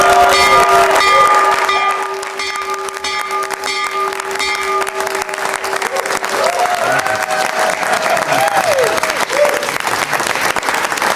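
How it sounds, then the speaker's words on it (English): Applause fills a room where the President rings the opening bell for the stock market. A bell-like ringing tone sounds through the first few seconds under the clapping, and the applause carries on loudly afterward. "So ring the bell, Mr. President."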